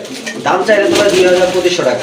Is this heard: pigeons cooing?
yes